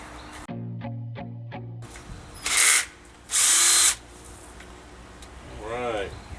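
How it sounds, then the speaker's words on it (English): Power drill standing in for an impact wrench during a pontoon boat USB charger install, its motor whirring in a few short bursts with pauses between, close and loud, with a person speaking briefly afterward. "so I'm just going to have to use a drill."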